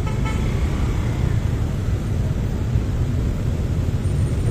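Steady low roar of congested road traffic in a busy Chinatown street before the fasting month, with faint horn toots early on and continuous engine rumble throughout, no talking.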